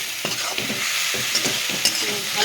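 Capsicum and potatoes fry together in a pan, a constant hiss of sizzling oil broken by rhythmic scraping stirs of a spatula, close and moderately loud, without any talking.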